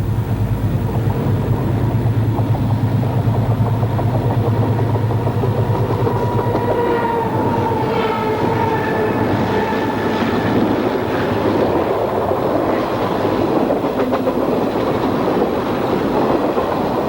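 A highballing freight train, the MB-5 on the Old Erie line, rumbles steadily past, wheels clicking and a faint squeal rising over the continuous roar.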